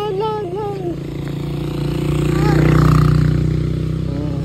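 A motorcycle engine passes close by outdoors, its low steady drone swelling to a peak and then easing off over several seconds, heard alongside other ambient sound with no speech in the segment.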